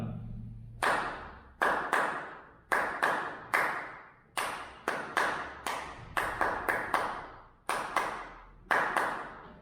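Hand claps or taps beat out a rhythm exercise over four measures, crisp close strikes in uneven groupings with short ringing decays and brief pauses between phrases, with no talking over them.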